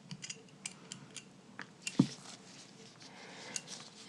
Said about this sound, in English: So pivot this way and then cut or shave the edge.